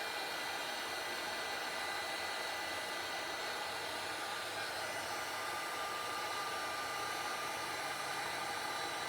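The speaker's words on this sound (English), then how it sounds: "Just turning your heat tool on, letting it heat up for a little while." Crafting heat tool blowing hot air, a steady even whooshing fan hiss running continuously and fairly quiet, with no talking.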